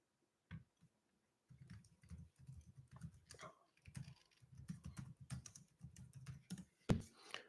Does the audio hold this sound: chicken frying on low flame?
no